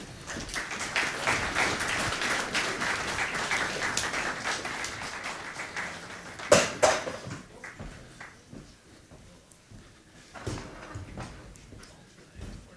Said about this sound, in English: give them a round of applause as they come